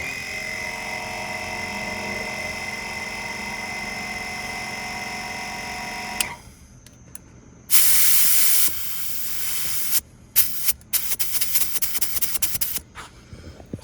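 Air helper bags on a Ford dually truck being let down with the air-down button, giving a steady broadband hiss of escaping air, loud and continuous for about six seconds before cutting off, followed by short bursts of spray-like release.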